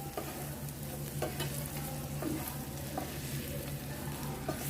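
Dried salted fish pieces frying in oil with chili powder, a low continuous sizzle with periodic clicks and scrapes of stirring, fairly quiet and steady.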